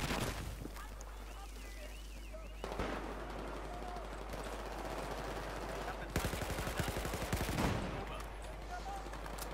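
Rapid automatic gunfire and sharp shots in the video game Battlefield 4 sound in dense bursts, with a loud volley near the end and voices faintly mixed in.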